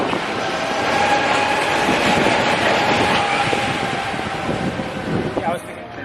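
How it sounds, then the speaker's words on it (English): Mine train roller coaster ride at Heide Park, a steady loud rumble and rattle of cars on track with wind buffeting the microphone, continuous throughout with faint voices mixed in. "We're gonna go and ride the mine train now."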